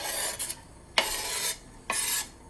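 Chopped fresh ginger and garlic sautéing in a tablespoon of olive oil in a pan, heard as three separate scraping stir strokes over a faint sizzle, close by with no voices.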